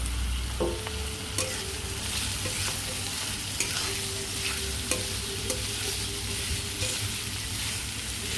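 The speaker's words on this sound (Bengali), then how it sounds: "তারপর দিয়ে দেবো গাজর, তারপরে দিয়ে দেবো আলু। সবগুলোকে ভাজবো।" Carrots and potatoes fry together in a pan for a pasta dish, a constant close sizzle broken by sparse knocks of a spoon stirring the pieces.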